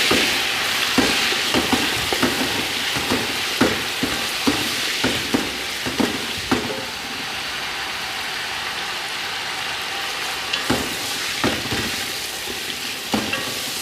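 Chicken frying with onions in a pot for chicken pulao, a loud continuous sizzle with repeated stirring scrapes and knocks in bursts, no talking.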